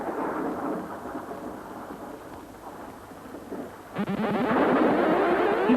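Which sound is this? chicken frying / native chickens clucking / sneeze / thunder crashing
thunder crashing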